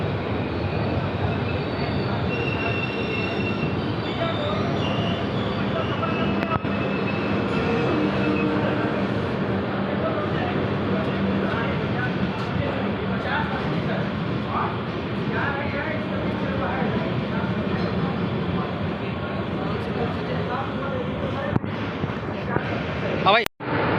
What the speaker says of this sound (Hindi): Gorakhpur Lucknow Gorakhpur Pataliputra intercity express train निकलती हुई डालीगंज